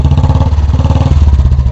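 A Royal Enfield Bullet 350cc motorcycle engine runs after a kick start, a loud, close, steady low thumping beat with rhythmic pulses and mechanical clatter throughout.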